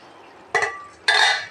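Two sharp metallic clanks of a cooking pot lid being lifted and handled over boiling crab gravy, each with a brief ringing tail, in an otherwise quiet kitchen.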